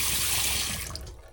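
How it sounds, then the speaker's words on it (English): Water streams steadily from a van faucet fed by an electric water pump, a loud hissing gush close by that slightly weakens and sputters near the end, with no voices. "We're celebrating that we now have a working water pump"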